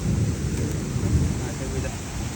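Heavy rain falling outdoors near a big river, a steady dense wash of noise with low rumbling, no break across the whole stretch.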